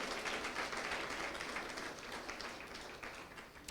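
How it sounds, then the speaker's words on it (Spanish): An audience applauding a speaker during a Spanish-language Christian sermon, heard as a steady, faint wash of many hands clapping at a distance, slowly tapering off. "Vamos a darle otro fuerte aplauso a él"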